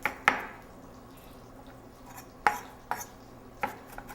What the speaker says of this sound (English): So I just like going down the front of the onion, 1/4-inch pieces, and then just giving it a nice rough chop